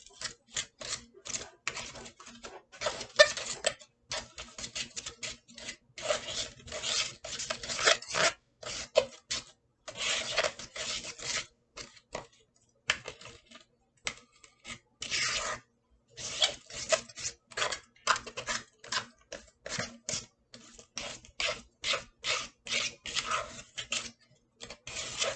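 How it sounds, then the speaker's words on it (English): A fork stirs and scrapes through shaving cream in a bowl, making quick, rhythmic bursts of scratchy rubbing strokes with short pauses between them, close up. "And then you're going to mix it together with a fork."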